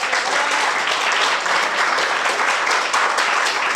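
Indoor audience applause at a talk on drug addiction, a dense, steady burst of many hands clapping that holds evenly for several seconds.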